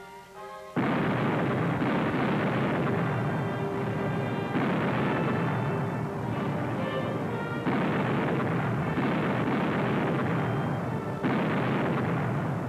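Cannon fire in a battle scene from a film: a loud, dense, continuous barrage of heavy booms rolling one into the next, with no speech.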